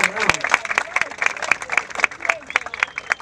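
A crowd at a rap battle final applauds a rapper, with sharp, irregular claps and whoops packed close together. The claps ring loud and near, and voices mix into the noise.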